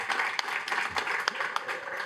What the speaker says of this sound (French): Ludivine, on l'applaudit.